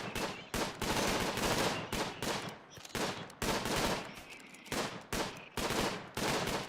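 Rapid bursts of gunfire at a raider in the video game RimWorld, loud, dense volleys repeating in quick succession with brief gaps between them; no talking.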